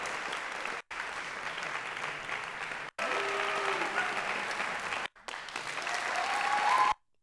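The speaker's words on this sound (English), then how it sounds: "let's listen to the audience applause in these two different sections" Sustained concert audience applause, loud and steady, broken by short silent cuts between separate sections and swelling toward the end.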